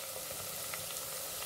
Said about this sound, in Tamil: இப்போ இந்த சின்ன வெங்காயம் நமக்கு ஓரளவுக்கு வதங்கினதும் நம்ம தனியாக எடுத்து வச்சுருந்த பூண்டை இதில் சேர்த்துடலாம்.